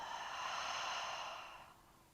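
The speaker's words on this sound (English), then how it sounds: "Exhale out the mouth, let it go." A long, full exhale pushed out through the mouth during a breath-work session: a single breathy rush that swells, holds and tapers off over about two seconds, close and alone.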